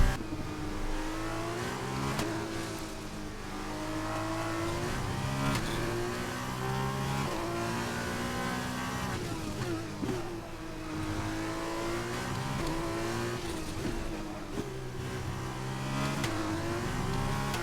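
A Formula 1 car in the racing game F1 2021, at the Russian GP, screams at high pitch and rises and falls through the gears, loud and steady with no talk.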